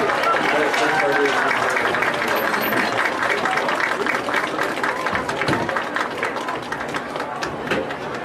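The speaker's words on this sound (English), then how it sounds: "Please give a big Cyclone round of applause to the Turner family for this great achievement." Spectators at a high school Russellville Cyclones versus Mountain Home Bombers game applaud in a dense, sustained wash of clapping and crowd noise, with voices mixed in throughout.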